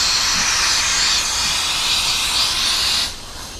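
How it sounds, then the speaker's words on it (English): Air leaking from a pneumatic line on a truck's air system, a loud, steady high hiss that drops off sharply near the end. "Your air leak is right here."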